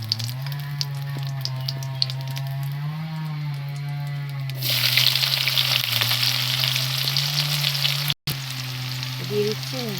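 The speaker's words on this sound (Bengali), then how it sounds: "পেঁয়াজটা ভালো করে তাড়াতাড়ি ভাজা হয়ে যাবে" Chopped onion with a bay leaf frying in hot oil in a pan, a close, steady sizzle that grows louder and brighter midway, over a constant low hum.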